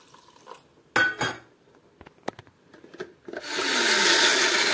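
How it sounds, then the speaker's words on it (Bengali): Poppy seeds, green chili and water being ground into a paste, a loud steady grinding whir rising after a few scattered clinks and knocks of utensils. "আমি এই পোস্তটাকে পেস্ট করে নেব"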